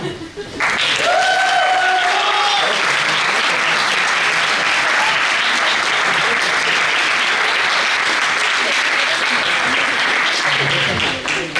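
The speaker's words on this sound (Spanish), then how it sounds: "Aplausos para el primero." A theatre talk audience breaks into sustained applause, loud and dense for over ten seconds, with a few voices calling out near the start before the clapping settles into a steady roar.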